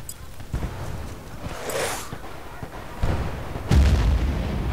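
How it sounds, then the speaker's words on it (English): Rocket blast in the video game Battlefield 3: a muffled boom rolls out amid scattered distant gunfire, followed by a couple of heavier thuds near the end, moderately loud and somewhat distant. "Hopefully that was a friendly rocket there."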